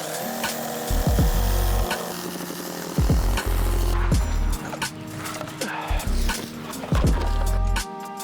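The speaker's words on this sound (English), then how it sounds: "Just broke the blade on my Sawzall." A Sawzall reciprocating saw cuts in loud, close bursts of rapid buzzing, stopping and restarting several times over a few seconds.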